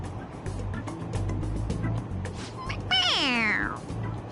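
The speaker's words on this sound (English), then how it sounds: "It meows when you press on its head." A toy cat in Persona 5 Royal gives a single drawn-out meow when its head is pressed, sounding clearly over soft game background noise and low hum.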